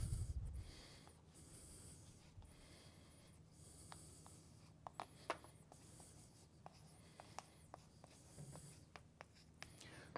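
Chalk or marker writing on a board during a math lecture, with a steady scratchy stroke and intermittent sharp taps as letters are formed, fairly quiet against room hum.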